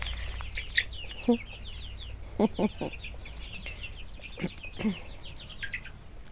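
A crested chicken clucks in short, scattered bursts outdoors on grassy ground, with high chirping birds and cheeping chicks running through the background at a moderate distance.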